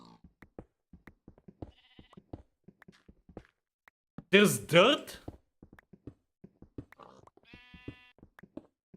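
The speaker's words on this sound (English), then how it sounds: "I also hear a sheep." Sheep in Minecraft bleating twice in quick succession, loud and close, between soft footstep taps and brief game effects, with a player talking nearby.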